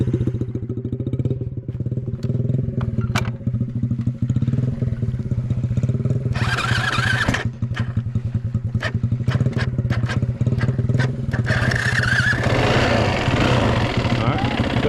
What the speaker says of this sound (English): you hear the motor get loud and feel it vibrating and like it's starting to rev out